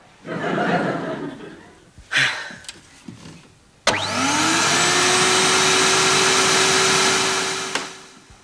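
A vacuum cleaner switches on abruptly after a stretch of talk and laughter in a home, then whines loudly and steadily for about four seconds with a rising motor tone before cutting out.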